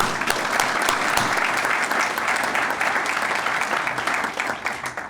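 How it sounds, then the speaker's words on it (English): Steady audience applause at a ribbon cutting for a digital media center, with dense continuous clapping from a moderate crowd lasting the full stretch, fairly far off and even in level. "I'd like to give them a round of applause."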